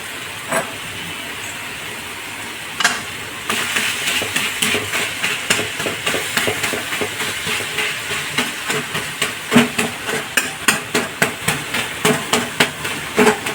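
A ladle repeatedly strikes and breaks up fourteen greens (choddo shak) in a frying pan. Sharp knocks start sparse, then turn into a fast, steady rhythm over a soft background sizzle.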